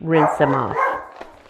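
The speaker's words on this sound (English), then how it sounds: "sorry, that's my dog." A dog barks a couple of times close by indoors, the short yaps mixed in with a person speaking.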